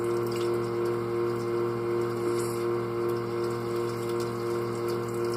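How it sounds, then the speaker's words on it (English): Water running steadily as it is added into a nearly empty bottle of red paint, a continuous hissing, tap-like flow that stays even and close throughout, with no talking. "try and see if I can get some water into the bottle so I can get a little bit more red"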